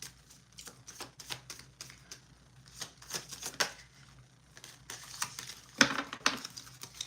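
Thin, flimsy, papery tarot cards are shuffled by hand in quick, soft riffling bursts and taps, close and fairly quiet, with no talking.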